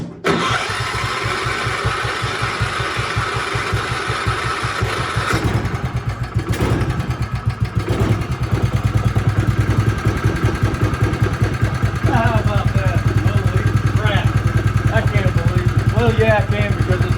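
An old Kohler K181 single-cylinder engine on a Jacobsen three-wheel utility vehicle runs loud and close with a steady low throbbing rumble, the revs shifting partway through, while people talk over it.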